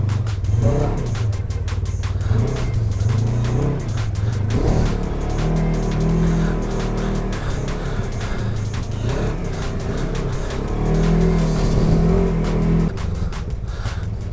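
A Polaris RZR side-by-side revs its engine up and down in repeated surges, loud and close, with clattering mechanical noise between the pulls.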